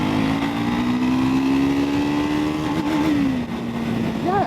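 A Triumph Scrambler 400 X motorcycle revs out in third gear, its engine note climbing steadily and loud, then briefly dipping and wavering near the end, a continuous close mechanical drone with wind rush.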